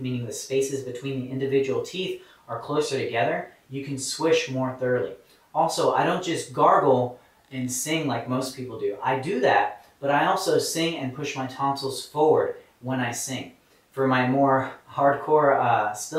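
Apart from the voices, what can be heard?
No everyday noises stand out.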